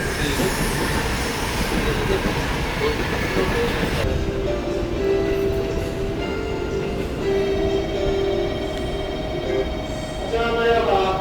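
A JR local train pulls out of Hakata Station, with steady rail rumble and wheel noise building under a platform announcement, then a brief high tonal squeal near the end.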